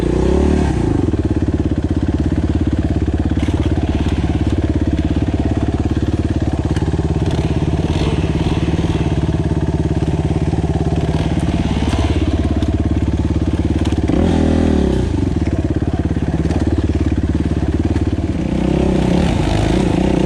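A Yamaha WR450F dirt bike motorcycle runs continuously on a forest trail at Belanglo State Forest. Its engine clatters and revs loudly up close for the whole stretch, with a few brief dips and surges in throttle.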